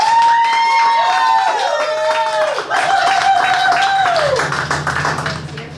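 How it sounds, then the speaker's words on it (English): An audience claps for a contestant at a live event, with a dense patter of hands throughout, while a sustained whistle-like tone swoops and slides above the applause. "I want you to go ahead and clap your hands anyway for Jill Randall."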